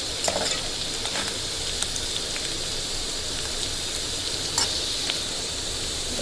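Onions cooking down in a pan for a chicken curry give off a constant, even sizzle with faint crackles and occasional louder pops; no voices.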